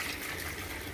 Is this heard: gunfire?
no